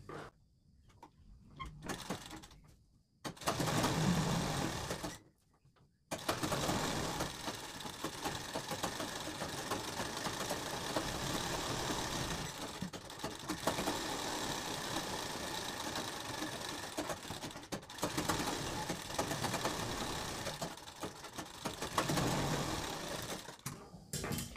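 A sewing machine double-stitches kurti fabric with a steady, close mechanical whir that runs for long stretches, broken by a few short stops and restarts.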